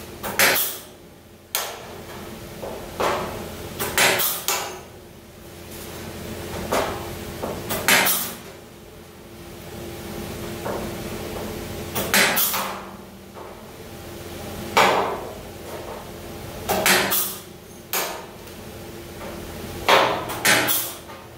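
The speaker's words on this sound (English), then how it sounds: "I got holes punched in it with the hole punch tool" A hole punch tool punches holes in a car body panel with a series of sharp metallic clacks spaced irregularly, close and loud against a quiet workshop background.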